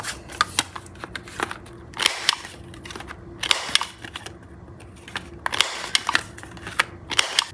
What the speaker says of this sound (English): the next step for me, which is completely optional, is rounding out the corners. And I have this corner rounder here.